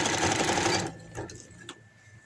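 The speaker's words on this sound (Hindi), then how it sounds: "फिर इसको हम कन्नी की सिलाई लगा लेते हैं।" A sewing machine stitches the hem of palazzo pants in a fast, close whirring run that lasts under a second, then stops, leaving a few faint mechanical clicks.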